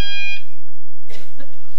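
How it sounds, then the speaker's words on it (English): Electronic game show buzzer on a late-1990s crossword quiz, a bright harmonic tone sounding for about a third of a second, followed by a short burst of host speech. "fingers on the buzzers, everybody"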